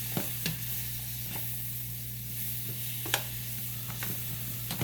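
Butter melting with mushrooms in a frying pan for carbonara, giving a steady, even sizzle with a few sharp clicks and scrapes of stirring, close and alone with no talking.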